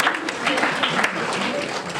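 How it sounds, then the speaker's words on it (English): Wedding guests clapping during a groom's speech, a short burst of dense applause from a room full of people, fairly close and steady. "Ladies and gentlemen, round of applause."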